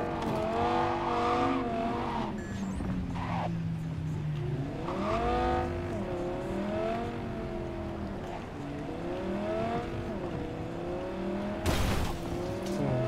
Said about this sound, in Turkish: Çok kötü vurdum arabaya.